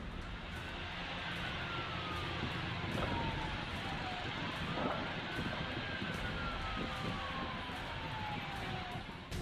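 Emergency vehicle sirens wail through the scene of a major market fire in Tehran, several rising and falling tones crossing over dense, loud street noise and traffic rumble, steady throughout.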